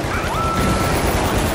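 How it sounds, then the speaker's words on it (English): Gunfire in the video game The Finals, a dense, steady rattle of rapid shots sustained throughout at moderate loudness with no clear gaps. "All this gunfire."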